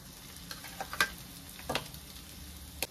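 Boiled potato goes into a pan of frying spices with cumin powder and a little sugar; a soft low sizzle runs under sharp stirring clicks and scrapes of a spatula, close and intermittent.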